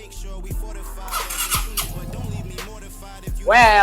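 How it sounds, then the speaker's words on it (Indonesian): Vespa Sprint scooter engine on a rebuilt motor, started using a jump starter: several sharp cranking pulses spaced about a second apart, then the engine catches and rises loudly at the end. "Dan sekarang gue langsungin jumper starter."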